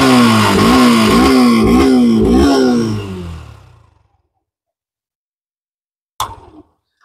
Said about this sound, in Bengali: যদি আপনাদের বাইকটার সাউন্ডটা দেখাই